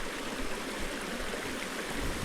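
A small waterfall on a creek in a Wisconsin glen sends up a steady, broad rushing hiss of flowing water, close and constant without pause.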